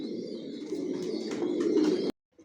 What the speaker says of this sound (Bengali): যে কবুতরগুলো দেখাচ্ছি এগুলো অ্যাডাল্ট কবুতর